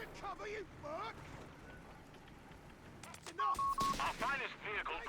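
Heavy machine gun and rifle fire in a Company of Heroes 3 match, sharp bursts crackling through the second half over ongoing battle noise, with a caster talking earlier.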